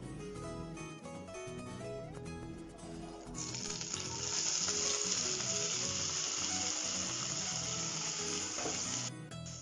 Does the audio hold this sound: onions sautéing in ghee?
yes